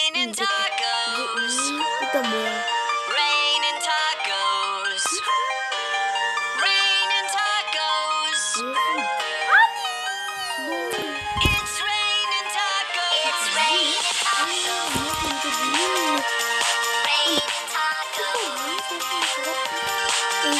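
A phone ringtone plays a bright, busy electronic melody, loud and close, running continuously for about twenty seconds with no talking over it.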